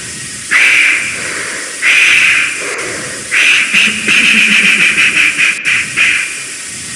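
Steam hissing from a locomotive in a 1953 BBC railway-engine story, bursts of hiss, first two long puffs and then a quick rhythmic series of chuffs, loud and close.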